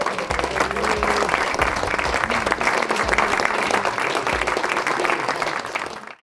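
Audience applauding loudly and continuously for a prize winner at a drone event, a dense crowd ovation that holds steady for about six seconds before cutting off abruptly.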